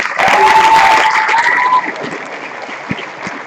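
Audience at a high school senior awards ceremony breaks into a quick burst of clapping that swells loud, then thins out and fades within a few seconds, with a few scattered claps at the end.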